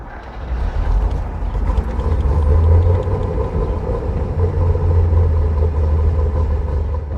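A 1963 Chevrolet Corvette C2 Stingray drives on the road with a deep, steady engine rumble heard up close, swelling slightly and then settling back into a constant drone.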